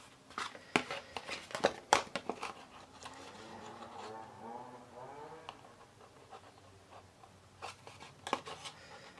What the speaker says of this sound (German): Und schneide mir das Löchlein, was ich brauche, mit meiner kleinen Schere sauber raus.